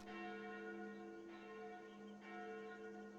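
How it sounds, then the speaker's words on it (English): Church bells ring in a video game, sustained resonant tolls with two fresh strikes layered over a lingering hum, clear and steady with no talking. "It sounds like the church's non-on-time bells."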